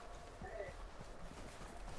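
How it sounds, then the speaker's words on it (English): Horses' hooves clip-clop steadily in the video game Red Dead Redemption 2, a faint, even rhythm of hoofbeats under a low ambient background. "They're coming down with the horses."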